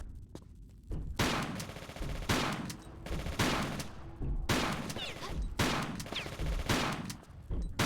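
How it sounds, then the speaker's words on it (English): A shotgun in Tomb Raider: The Last Revelation fires about seven loud, booming blasts at a steady pace of roughly one per second, heard on their own without voices. "the shotgun's proper shit from distance"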